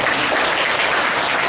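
Students in a classroom or hall applaud together, a thick continuous wash of clapping at steady volume without pause.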